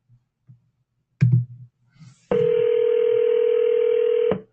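A telephone line on a recorded inbound call gives a steady electronic ring tone for about two seconds, preceded by a brief thump and faint background murmur.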